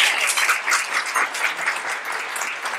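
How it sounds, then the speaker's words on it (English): Conference audience at a leadership event clapping in a brief, lively burst, with many hands creating a dense, slightly uneven patter. "let's give a round of applause to them"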